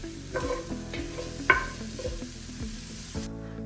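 Spicy chicken and vegetables stir fry in a hot pan, a soft continuous sizzle broken by repeated scraping stirs of the spatula every half second or so, close and fairly quiet.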